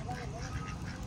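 Ducks quack at Saguna Baug farm, a few short nasal calls heard over a continuous low background rumble, with people talking nearby.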